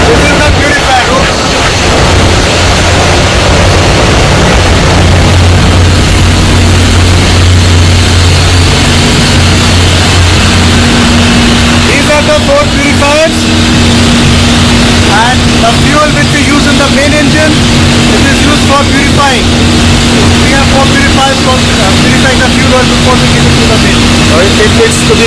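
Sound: ship engine room machinery running

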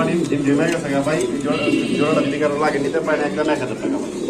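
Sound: pigeons cooing at a pigeon market

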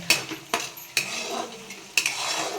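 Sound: sautéing spice masala in a pan

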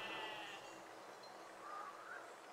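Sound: sheep bleating in a video game

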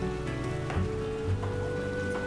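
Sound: rain in the video game The Witcher

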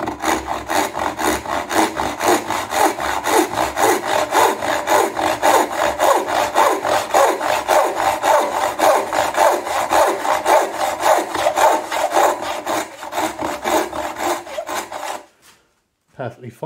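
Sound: new dovetail hand saw cutting wood joinery in a vise

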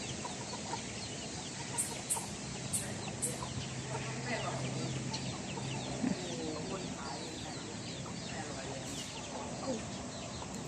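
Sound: chickens clucking

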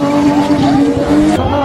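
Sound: drift car engine throttle blipping

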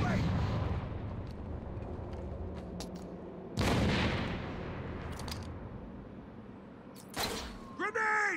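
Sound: grenade explosion in video game Gotham Knights

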